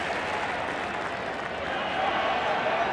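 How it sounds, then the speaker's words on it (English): A family crowd at a 1988 rugby league tour match applauds a departing player in a broad, dense wash of clapping that swells slightly, with talk over it. "Tooby getting a great round of applause here from this family crowd"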